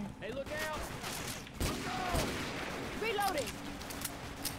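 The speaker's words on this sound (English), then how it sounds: "I love these pistols. Just the way that they sound." Pistol gunfire from the horror video game Silent Hill Otherside of Life, a few sharp shots spread across the stretch over a busy game soundscape with a voice talking in between.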